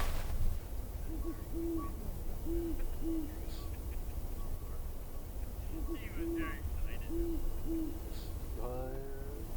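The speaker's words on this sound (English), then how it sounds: "You can hear an owl right now." Owl hooting on Mount St. Helens, several pairs of low, soft hoots repeating at a steady pace from a moderate distance over wind and outdoor hiss, with a brief higher sound near the end.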